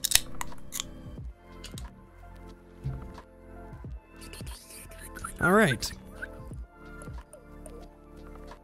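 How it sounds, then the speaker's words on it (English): Two drink cans snapping open, one soda and one sparkling water, each giving a sharp crack and fizz between stretches of close indoor talk. "Yes, that was two cans opening."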